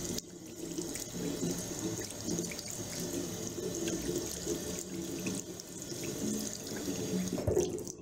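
A sink tap runs steadily as makeup brushes are rinsed under it, giving a constant close splashing wash of water with no voices.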